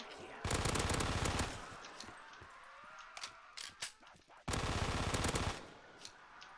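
An Uzi submachine gun fires in Black Ops 3 custom zombies, two loud sustained full-auto bursts with mechanical clicks and scattered shots between them.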